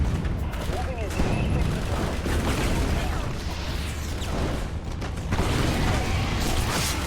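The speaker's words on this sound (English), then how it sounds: "use the rocket launcher. Take that, Hydra!" Rocket launcher fire against Hydra in the video game Prototype 2: a dense, continuous barrage of booms, blasts and clanking mechanisms, with a voice talking over the battle noise throughout.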